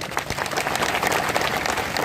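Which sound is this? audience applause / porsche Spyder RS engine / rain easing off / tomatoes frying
audience applause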